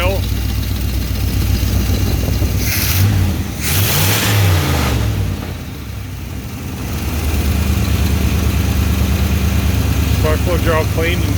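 A rebuilt 1968 Oldsmobile 455 V8 runs at a steady fast idle close by, a continuous low rumble that swells briefly as it is revved midway, with some background voices.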